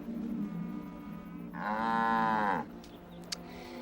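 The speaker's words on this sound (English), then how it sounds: "Now, if you wanted to make that cow come into the pen" A single cow moos once, loud and close, a long drawn-out call of about a second beside a livestock pen, with steady low background hum and no talk.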